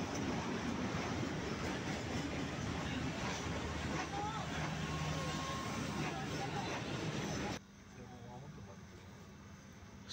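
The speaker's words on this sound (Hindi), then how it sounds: "अब फाइनली ट्रेन भी चल चुकी है।" Rehman Baba Express passenger train running on rails between Rawalpindi and Karachi, heard from inside: a steady rumble with faint rhythmic rail clatter, dropping sharply quieter near the end, with a low murmur of voices.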